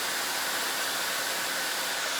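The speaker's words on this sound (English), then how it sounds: "Hold the blow dryer together with the brush." A Harry Josh blow dryer runs continuously on hair, a loud, close, steady airy roar with broad hiss and no breaks or voices.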